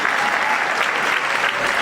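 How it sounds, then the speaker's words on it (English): At a Juneteenth honors awards event, a crowd claps in a brief, dense burst of applause, steady and fairly loud from start to finish. "let's give them a round of applause for doing what they did."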